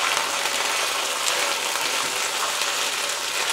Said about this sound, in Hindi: 5 मिनट हम प्याज के साथ अच्छे से भूनेंगे।